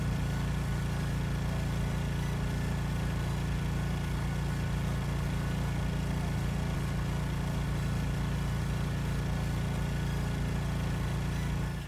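A steady outboard motor drives a raft across open water in the survival game Stranded Deep, a constant low droning hum that holds unbroken and fairly loud throughout, with no voices.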